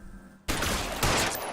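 Gunfire in the video game L.A. Noire: a sudden loud burst of shots erupts after a brief quiet moment and keeps rattling with a second surge, dense and close.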